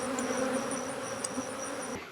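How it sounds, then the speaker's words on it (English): A caught swarm of honeybees forms a giant ball, a dense continuous buzz from many insects, steady and fairly close, with no talking. "Giant ball of bees."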